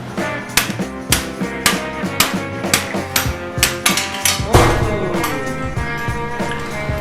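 A rubber mallet strikes the triple tree clamp of a 1974 Honda MT250 Elsinore motorcycle in a steady series of about a dozen sharp, close knocks, with a metallic ringing resonance after a heavier blow.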